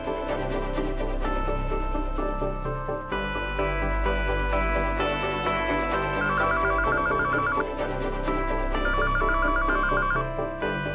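A telephone rings insistently with a repeating electronic trill, loud and steady for the whole stretch, with no talking.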